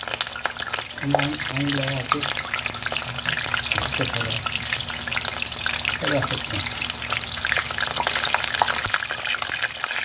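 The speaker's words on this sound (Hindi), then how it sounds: "ऑयल मैंने गर्म करने रख दिया और ये मैंने बर्गर उसके अंदर डाल दिया।" A burger patty fries in hot oil with a loud, steady sizzle that crackles throughout, while a person talks over it.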